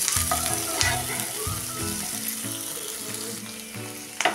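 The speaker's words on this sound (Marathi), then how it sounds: "ग्रेव्हीमधला आता ह्या प्रत्येक मसाल्याचा कच्चापणा कमी होईपर्यंत आपण थोडा थोडा परतून घ्यायचा आहे।" Spices sizzling and frying in oil for a dhaba-style cashew masala gravy, a constant crackle with intermittent scraping of a stirring utensil and some clatter, heard close with no talking.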